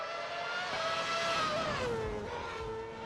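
A Formula 1 car engine on a slow lap at Mugello in the F1 2013 video game, with a high whining tone that shifts in pitch steadily and no speech over it.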